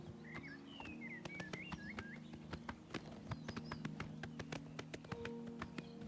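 Horse hooves clip-clop in the Oblivion Remastered video game, a steady run of sharp taps, some louder than others, with faint bird chirps and a low ambient hum underneath and no talk.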